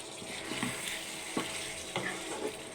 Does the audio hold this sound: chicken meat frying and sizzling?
yes